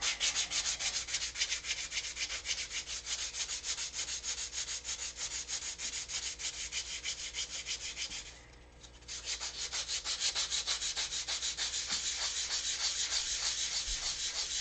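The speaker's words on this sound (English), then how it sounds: "I got to get this flat now for the sandpaper to rest on it" Continuous hand sanding of a wooden canopy on a Mega Tucker build, a steady rhythmic rasping of sandpaper over wood with a brief pause near the end, close and fairly loud with no talking.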